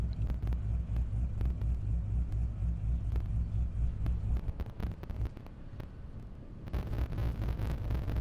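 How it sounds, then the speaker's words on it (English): A Corvette race car rolls up at an airstrip drag race, its engine a steady low rumble close by with wind buffeting, easing off briefly before swelling again near the end. "Kevin Kahn and the Corvette pulling up."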